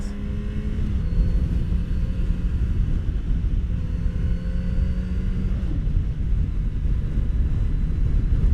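A 2019 Kawasaki Z900RS Cafe retro motorcycle engine drops through the gears, a loud, steady low rumble whose pitch steps down twice, mixed with wind buffeting on the move.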